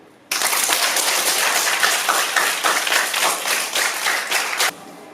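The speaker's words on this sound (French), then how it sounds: "Celui qui est sûr qu'il sera admis en 2026, il applaudit en haut." Students being coached for the BEPC exam at a lycée in Togba break into loud, dense clapping that starts abruptly, holds steady for several seconds, then stops suddenly.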